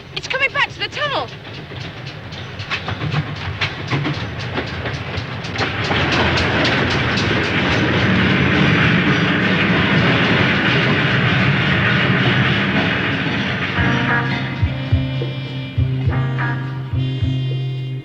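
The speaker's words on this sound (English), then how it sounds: "The spook train! It's coming back to the tunnel!" A train rumbles past heading into a tunnel, with rising clatter and hiss that builds, holds loud for several seconds, then fades into lower mechanical rumbling.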